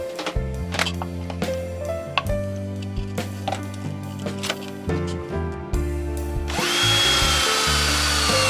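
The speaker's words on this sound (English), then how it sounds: "I'll drill a hole through and we'll see." A power drill whirs in short stop-start bursts, then runs continuously and grinds through material at the end, close and loud.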